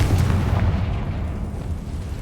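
Confringo blasting spell explosion in the Hogwarts Legacy video game, a single heavy low boom that rolls on as a dense rumble and slowly fades, heard with no voices.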